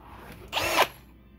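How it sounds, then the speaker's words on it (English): A short, sharp burst of a power drill whirring into a metal gun safe, about a third of a second long, then fading back to quiet. "So what I ended up doing was taking a drill"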